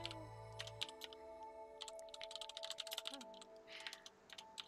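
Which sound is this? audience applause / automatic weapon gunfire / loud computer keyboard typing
loud computer keyboard typing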